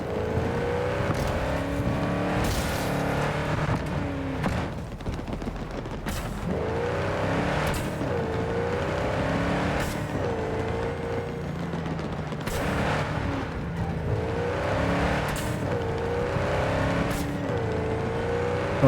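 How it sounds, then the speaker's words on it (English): A car engine in Cyberpunk 2077 drones loudly and steadily, with a sharp shift break every couple of seconds as the revs drop and climb again through repeated simulated gear changes, and no talk over it. "make the engine sounds much better and kind of simulate gear changes"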